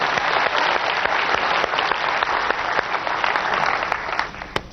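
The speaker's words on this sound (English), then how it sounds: "Let's give him another round of applause" Seminar audience applauding a participant at a real estate investment talk, dense steady clapping from a crowd indoors that tapers toward the end, no speech over it.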